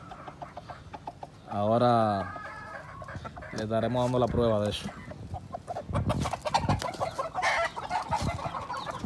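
Gallo Pava fowl, a hen and a rooster, cluck in two loud, drawn-out bursts, then give scattered shorter clucks while someone talks nearby in Spanish.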